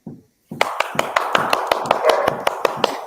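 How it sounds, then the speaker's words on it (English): A sparse, evenly spaced round of hand claps from a studio audience, crisp and close, sounding like only a few people clapping in a steady rhythm after a brief murmur. "Final applause from our studio audience"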